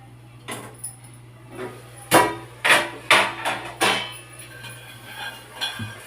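A knife chops fresh mint and coriander leaves on a board in a home kitchen, a series of sharp, close, irregularly spaced knocks with no talking.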